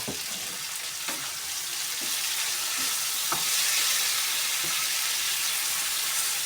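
Potatoes fry in plenty of butter in a pan, a broad, bright sizzle that swells and holds steady, with light scrapes and taps of stirring and no voices.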